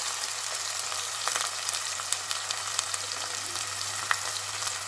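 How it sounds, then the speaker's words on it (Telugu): Bay leaf, cinnamon, cardamom and cloves frying in hot oil in a pan, a steady close sizzle with small crackling pops and no talking. "ఇదిగోండి, బిర్యానీ ఆకు, చెక్క, ఇలాచి, లవంగ అన్నీ వేసేస్తున్నా"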